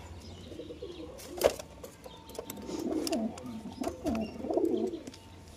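Pigeons newly bought at the Beldanga market coo softly in a quiet setting, with a sharp flurry of wing flaps and further low cooing phrases close by.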